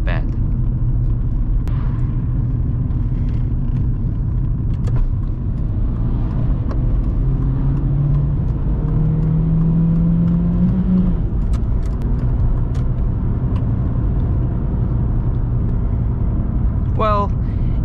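Volkswagen Golf MK4 with a 1.4 litre 75 hp engine driving on the autobahn, a constant low engine drone and road rumble inside the cabin, shifting slightly in pitch as it accelerates, heard under someone talking throughout.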